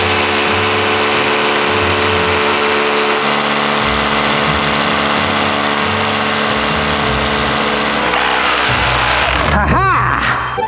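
A power drill bores holes for a radiator install, a loud, continuous whining grind that holds steady for about eight seconds and then shifts pitch and rattles near the end. There is no speech.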